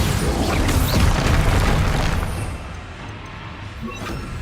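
A Bombarda spell explodes in Hogwarts Legacy with a loud, dense blast and rumble that holds for about two seconds, then thins into a quieter tail.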